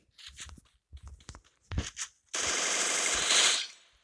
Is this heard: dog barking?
no